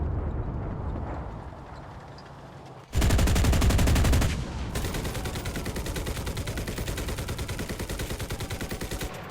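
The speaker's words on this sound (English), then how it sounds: "Is that enemy artillery?" Enemy artillery fire in the World War II shooter game Enlisted: a loud, dense roar bursts in after a quieter stretch, then gives way to a sustained rattling barrage of rapid, repeated impacts.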